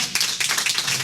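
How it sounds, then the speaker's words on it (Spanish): A church congregation claps together as a praise offering to the Lord, a short burst of quick, loud, overlapping claps at close range. "Denle ofrenda de palmas al Señor"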